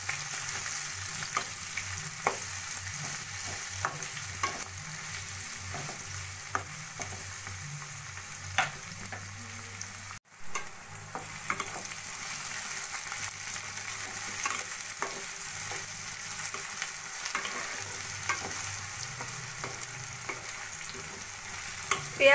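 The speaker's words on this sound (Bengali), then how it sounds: "পেঁয়াজ আমি হালকা সোনালি করে ভেজে নেব।" Four large onions, thinly sliced, fry in hot oil with a steady crackling sizzle. Stirring scrapes recur throughout, with a brief drop in sound about halfway through.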